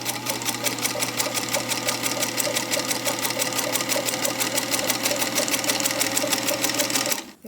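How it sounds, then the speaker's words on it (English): A sewing machine stitches a straight seam line a quarter inch from the needle, guided by diagonal seam tape, running in a fast, steady, close mechanical rhythm alone for about seven seconds before stopping. "We're going to sew our first line, and by using the tape, we know we're 1/4 inch away from our needle."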